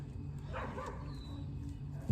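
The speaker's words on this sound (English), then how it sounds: "And I apologize for the neighbor's dog." A neighbor's dog barks and whimpers at moderate distance in the background of a home kitchen while pork loin is prepared, the dog sounds rising in the middle and trailing off, over a low steady hum.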